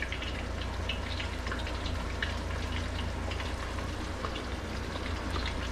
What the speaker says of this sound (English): we want to bring it to pretty much a boil, sort of a calm boil, just like it's doing there